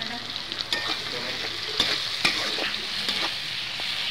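Shrimp and radish greens sizzle steadily in hot oil with turmeric, chili powder and salt, with scattered scrapes and clicks of a spatula stirring through the pan over about four seconds.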